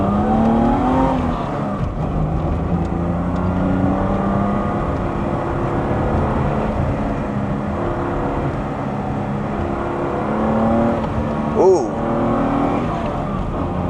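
BMW E30 Alpina B6 with its M30 engine and Alpina cam revving toward redline while driven, a loud steady engine drone with rising and falling pitch sweeps, close up and dominant.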